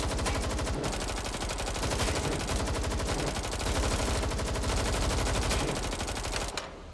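Sustained automatic gunfire in Watch Dogs: Legion, a loud, rapid and steady rattle of shots that continues almost unbroken before cutting off at the end.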